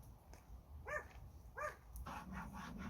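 A dog aboard a narrowboat gives two short, sharp barks a moment apart, then a few soft whimpers. The sounds are close but fairly quiet and rise over a faint background hiss.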